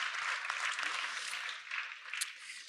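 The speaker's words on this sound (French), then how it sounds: "Oui, on peut l'applaudir." Audience applause after a talk on animated adaptation of comics, a steady wash of clapping lasting a few seconds at moderate distance, fairly quiet and with no voices over it.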